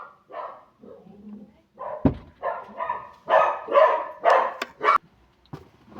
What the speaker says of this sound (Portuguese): Pera aí, pessoal, eu vou ver essa cachorra